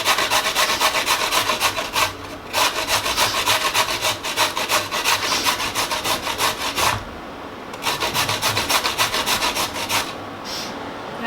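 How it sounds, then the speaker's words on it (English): Carrots rubbed over the fine side of a box grater, a steady rasping scrape repeating in quick strokes with a few short pauses, close and fairly loud with no voices. "now we're gonna grate the carrots using the fine side of the grater."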